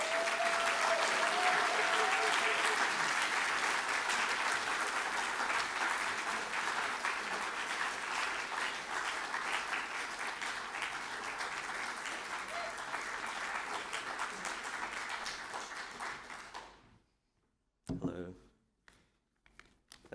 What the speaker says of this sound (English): So please, a round of applause for Dian Squire.